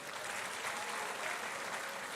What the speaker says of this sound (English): Our Vice Chancellor, Professor Mrs. Rita Akosua Dixon, please applaud her as well.